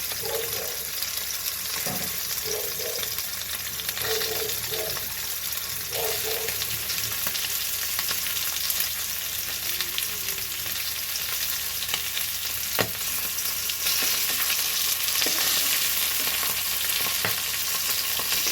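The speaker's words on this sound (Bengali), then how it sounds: "মাছের চারপাশটা সুন্দর করে ভেজে নিতে হবে, আর লেজার নিচেটা এইভাবে একটু ধরে থেকে ভাজতে হবে।" Fish sizzles in hot oil in a pan, being fried for fish bhorta. A steady close-up frying hiss runs throughout, with occasional clinks and scrapes of a spatula turning the pieces and no talking.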